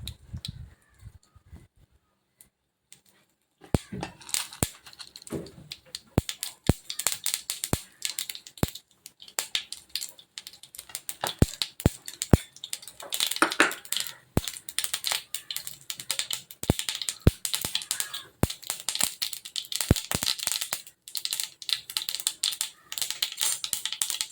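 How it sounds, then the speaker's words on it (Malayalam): Mustard seeds splutter in hot oil while tempering a thoran for an Onam feast; after a few quiet seconds, dense, irregular crackling pops start and keep going close-up. "ഞാനിപ്പോൾ ആദ്യമേ കടുക് താളിച്ചങ്ങ് ഇടുവാണ്"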